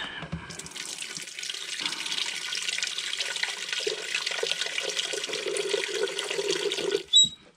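Tap water runs steadily into a Nutribullet blender cup for several seconds, a close, even rushing hiss that deepens slightly as it fills, then stops with a clunk.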